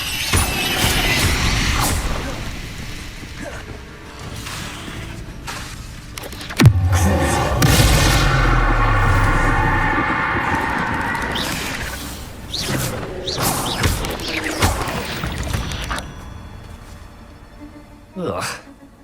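Confringo blasting spell from Hogwarts Legacy going off repeatedly, a burst of booming explosions with whooshing debris and a sustained rumbling blast, amid clattering game effects and occasional voice.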